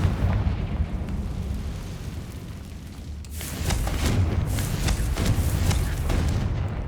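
A Confringo fire spell explodes in the video game Hogwarts Legacy, a loud booming blast that gives way to a sustained crackling, rumbling burst.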